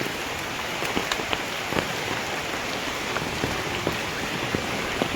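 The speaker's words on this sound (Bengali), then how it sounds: "প্রচুর বৃষ্টি হচ্ছে" Heavy rain pours steadily onto a house garden, a dense, even hiss of drops striking surfaces with scattered sharper splats, continuous and fairly close.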